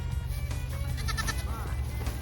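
Pygmy goat bleating, a short wavering cry over a steady low rumble of background noise outdoors, fairly faint and heard alone without talking.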